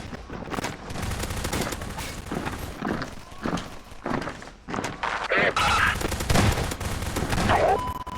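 Rapid shotgun blasts and gunfire in a Roblox game amid a chaotic crowd battle, a dense run of heavy thumping shots rolling on with few breaks, loud and close.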